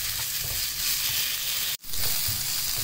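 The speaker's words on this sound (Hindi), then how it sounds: "लहसुन को मैंने फ्राई कर लिया अच्छी तरह।" Minced garlic, about half a teaspoon, fries in a pan for a chicken filling, giving a steady close sizzle and crackle that cuts out for a split second and then resumes.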